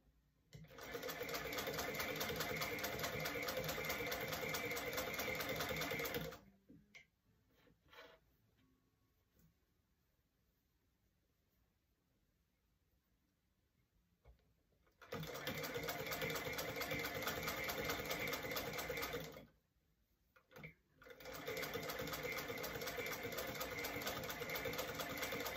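A vintage sewing machine from 1859 stitches in long, loud, steady bursts of rapid mechanical whirring and clatter, stopping for a quiet stretch of faint handling noises before running again twice.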